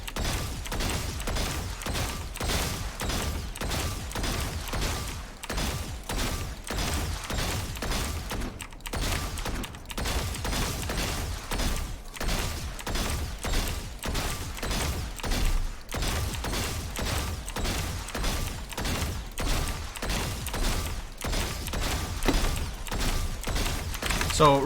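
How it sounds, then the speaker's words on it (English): Rapid gunfire from Valorant shooting practice, with dense, sharp shots cracking out almost continuously at a steady, loud level throughout and hardly a pause. "you want to shoot these guys at different distances and different heights"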